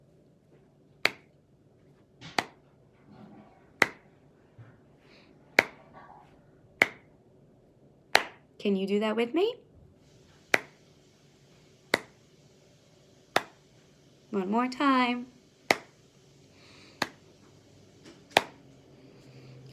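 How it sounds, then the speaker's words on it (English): Hand claps from a reading class, about fourteen crisp, evenly spaced single claps in a slow steady rhythm, with a voice speaking briefly between some of the beats. "We're going to clap our hands to hear a rhythm."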